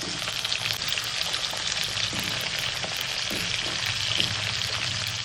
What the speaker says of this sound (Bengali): প্রত্যেকটা সবজিতে পরিমাণ মতন অল্প অল্প লবণ দিয়ে কিন্তু আমি ভেজে নিচ্ছি